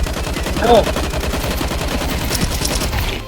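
An Uzi submachine gun firing in Counter-Strike 2, rapid continuous automatic bursts, loud and close, rattling without a break across the whole stretch.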